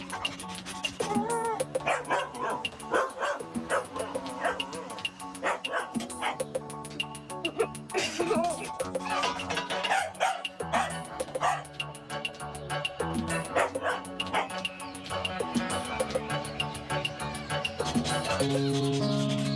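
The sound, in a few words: dog barking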